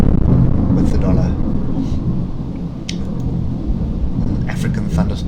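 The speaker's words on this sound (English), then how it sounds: "African thunderstorm in the background" An African thunderstorm rumbles as a steady, heavy low roar throughout, with a voice talking over it.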